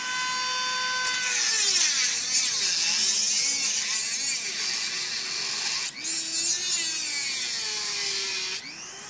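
A Dremel rotary tool cutting into a hard drive, a high whining grind whose pitch wavers and dips as the bit loads up, close and loud for the whole stretch, with no talking.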